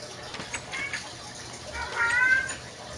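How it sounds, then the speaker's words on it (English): A pet cat meows several times nearby, with a longer drawn-out meow toward the end, over quiet background noise and faint game sounds. "my cat Crystal is meowing as usual."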